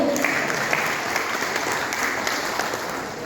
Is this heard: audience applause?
yes